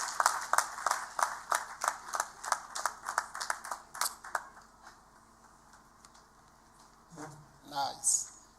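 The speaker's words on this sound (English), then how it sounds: "I think she deserves another big clap." An audience at a national HIV/AIDS symposium claps for a university professor after her keynote, a few hands beating in a steady rhythm for about four seconds before fading, followed by a short spoken remark.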